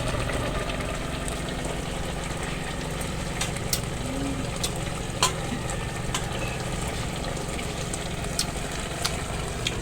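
A pot of adobo simmering with a steady bubbling sizzle, occasional soft pops and clicks over a constant low background hum.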